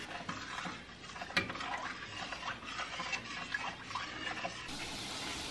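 Food is stirred and mixed in a bowl, producing faint, continuous soft scraping and sloshing with a few light knocks, close but quiet; no voices.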